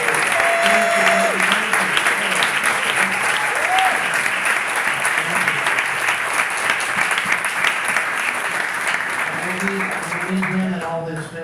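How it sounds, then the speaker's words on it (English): An audience at a festival breaks into sustained, loud applause that fills the space evenly and slowly tapers off, with a few voices calling out over the clapping. "So I want to ask that we all just take a moment to give some applause, loud enough for them to hear"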